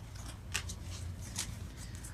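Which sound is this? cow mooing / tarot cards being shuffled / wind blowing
tarot cards being shuffled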